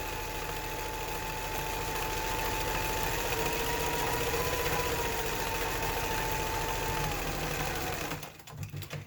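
A sewing machine runs a continuous zigzag stitch around appliqué fabric on its backing material, a steady close mechanical whir that stays even for several seconds before stopping near the end.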